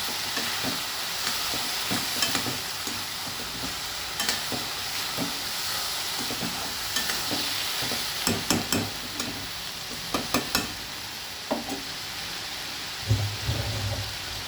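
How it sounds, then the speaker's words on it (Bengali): Potato, onion, garlic, chili and tomato frying together in a pan for a vegetable curry, a continuous close sizzle broken by repeated sharp scrapes and clatters of stirring. "আলু পেঁয়াজ রসুন লঙ্কা টমেটো সব একসঙ্গে আমি ভালোভাবে ভাজা ভাজা করে নিচ্ছি"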